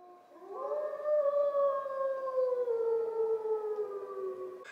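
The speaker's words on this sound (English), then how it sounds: "I've been waken up this morning by howling wolves." Wolves howling in winter woods near a cabin in the Ottawa–Gatineau area, a long sustained howl with several voices layered together, each one sliding slowly downward in pitch, loud and steady with no talking.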